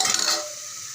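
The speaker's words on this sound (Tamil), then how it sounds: "பெப்பர் போட்டு நல்லா கிரேவியை நல்லா கிளறி விட்டுட்டு" Crab gravy seasoned with pepper gets a quick stir in a pan, a brief bright scrape and bubbling sizzle that eases into a softer hiss.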